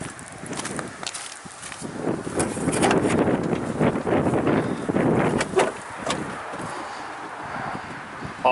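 Gusty wind buffets the microphone outdoors beside a pickup truck, with low rumbling bursts that swell and fade and a few faint rustles and steps.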